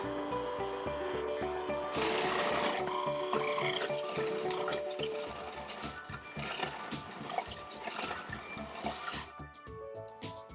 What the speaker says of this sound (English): We'll be grating the carrots and the onions first in our trusty Cuisinart.